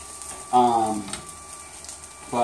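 Dosa batter sizzles on a hot pan, a steady frying hiss that swells in two bursts, close and fairly loud, with a quiet pause between.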